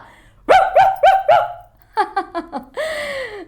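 A voice imitates a dog barking, giving several quick woofs, a short pause, then another rapid burst and a final drawn-out yelp, loud and close with no other sound.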